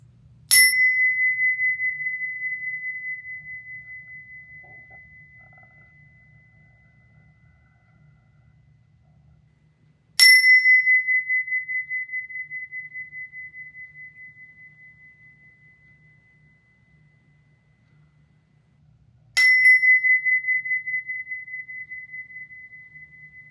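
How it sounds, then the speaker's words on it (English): A 52 hertz chime struck three times at even intervals, each strike a clear bright ring that decays slowly over several seconds in a quiet room. "this is a 52 hertz chime"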